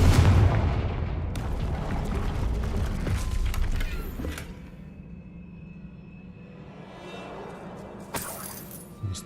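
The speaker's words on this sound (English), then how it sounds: "Another barrier. We can blast through it, I'm certain." A Confringo spell in Hogwarts Legacy blasts through a barrier, opening with a loud deep rumbling boom that fades into a lower sustained hum and ends with a brief bright crackle.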